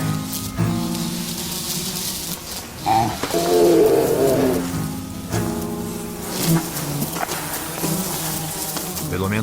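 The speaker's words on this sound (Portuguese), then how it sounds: "Apenas os insetos conseguem se alimentar." Insects buzzing steadily and close in a polar bear documentary, a dense droning whine running throughout, with a low roar swelling in the middle and faint narration underneath.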